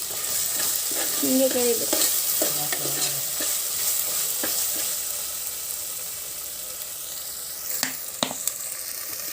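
Pulao ingredients fry in oil in a home kitchen pan, a steady sizzle with stirring scrapes and a few sharp utensil clinks near the end, while someone speaks briefly over it.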